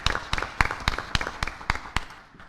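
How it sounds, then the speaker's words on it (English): A small audience at a school board meeting gives a brief burst of scattered clapping, about ten distinct claps over a couple of seconds that thin out and fade. "Please help me give him a round of applause anyway"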